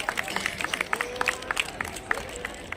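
An audience applauds at a community honours ceremony, with scattered, uneven hand claps at moderate distance and a faint murmur of voices underneath.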